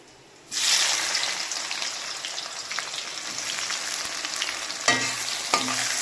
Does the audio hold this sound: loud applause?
no